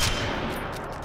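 Gunfire from the video game Sniper Elite 4 comes as a dense, loud burst of shots blurring into a continuous rumbling roar in a very short stretch.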